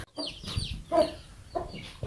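A broody hen sitting on her eggs gives several low, throaty clucks in short bursts, close by and fairly clear, with quiet gaps between calls.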